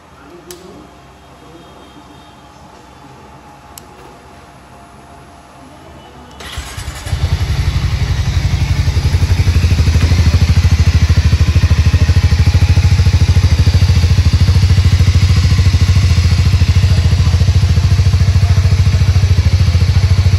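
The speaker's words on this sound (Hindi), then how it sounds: "let's hear the exhaust sound" A Hero Mavrick 440 motorcycle engine starts after a quiet stretch, then its exhaust rumbles loud and steady with a deep throbbing idle that continues to the end.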